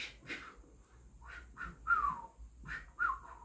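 A person whistles in imitation of a sound heard outdoors, several short rising and falling whistled notes spaced apart over a faint low background hum, with no talking.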